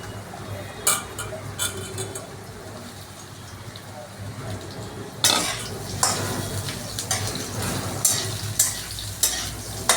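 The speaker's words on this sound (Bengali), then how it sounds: "এখন আমি আলুগুলো দিয়ে দিলাম তেলে।" Potatoes dropped into hot oil give a sudden surge of loud, crackling sizzle partway through, after a quieter stretch of background frying, with occasional clinks of a utensil against the pan.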